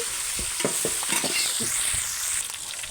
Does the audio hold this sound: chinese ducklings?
no